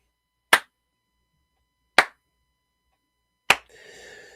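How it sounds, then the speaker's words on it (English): A slow clap: three single, sharp hand claps spaced evenly about a second and a half apart, close and crisp with silence between, and a brief low rumble right after the last one. "Listen, a slow clap for you,"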